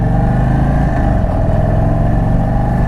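An Indian Super Chief motorcycle accelerates on a demo ride, its engine a loud, steady, close rumble throughout with layered low harmonics and no talk.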